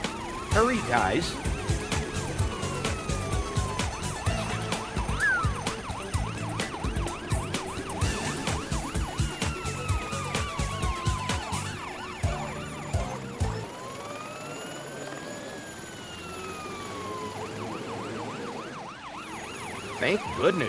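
A police car siren in a children's cartoon rises and falls in repeated wailing sweeps over bright music and car noise, continuous and fairly loud until the backing thins near the end.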